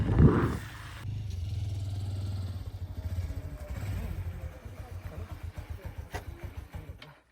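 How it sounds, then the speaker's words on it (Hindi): A motorcycle rides along a cold, foggy village road toward a farm. Its engine opens with a revving burst, then settles into a steady, rhythmic putter that pulses on to the end. "और हम निकल गए पापा की बाइक लेके हमारे फार्म पर।"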